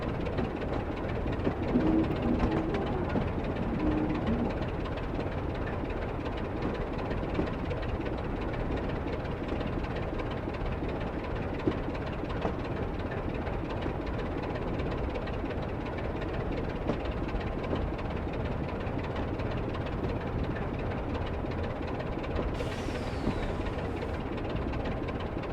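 Class 24 diesel locomotive in Train Simulator drawing to a stand at the Corfe Castle platform on the Swanage line, a continuous low idling engine rumble with faint knocks throughout and a brief hiss near the end.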